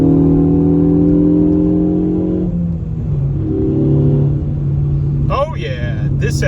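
A 252-horsepower Ford Focus ST hot hatch fitted with a Borla S-Type exhaust pulls hard from inside the cabin, with a droning exhaust tone that drops on a shift and climbs again, someone talking over it.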